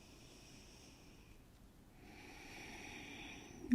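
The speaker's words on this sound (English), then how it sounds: "2 more breaths." Slow, deep breathing during a yoga stretch, soft airy inhales and exhales close to the microphone, quiet and unhurried, with no talk.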